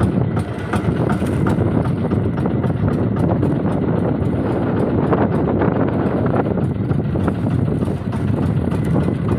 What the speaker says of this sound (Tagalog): Dito sa tabi sobrang lakas ng hangin.